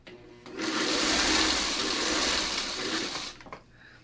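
A sewing machine runs in one steady burst of stitching for about three seconds while a quilter creeps up on the needle on a chevron quilt block. It is fairly close and loud, with no talk over it.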